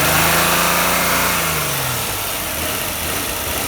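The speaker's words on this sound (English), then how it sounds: "I'm going to jam it in the throttle to rev her up about" A Nissan Maxima engine held at roughly 2500 to 3000 RPM with the throttle jammed open, a steady loud mechanical drone with a falling tone early on, close and alone.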